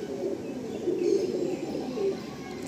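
A Kaldam Madrasi pigeon, a male, coos in low, rolling phrases, a few swells close by and moderately loud over a quiet background.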